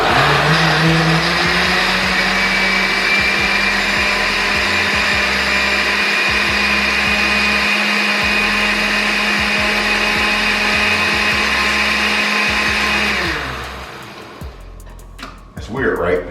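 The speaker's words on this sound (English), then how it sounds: "turn the blender on, and we're gonna go ahead and chop these onions up and mix them around in this water" A blender chops onions in water with a loud, steady motorized whir that runs without a break for about thirteen seconds, then winds down and stops.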